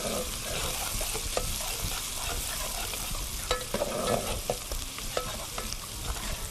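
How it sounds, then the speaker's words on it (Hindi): Two medium onions sizzle steadily in a hot pan while softening for Hyderabadi bagara baingan, with occasional scraping and stirring clicks from a utensil over the constant frying hiss. "2 मीडियम साइज की प्याज है, इसको थोड़ा फ्राई करेंगे इसके नरम होने तक"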